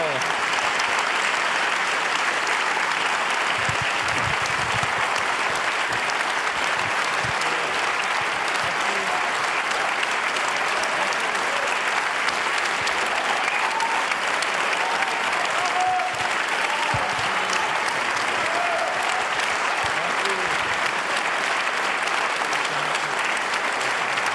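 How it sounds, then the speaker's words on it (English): An audience at an opera awards ceremony applauds in a dense, sustained wash of clapping that stays steady and even throughout, with faint voices beneath. "We like applause, yes."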